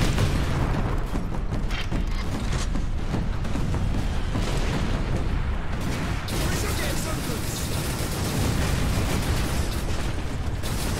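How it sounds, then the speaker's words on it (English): Grenade blasts in the video game Space Marine, loud booming bursts with rumbling debris filling the whole stretch under continuous game noise, with no pause in the chaos. "Q is to throw grenades, of course."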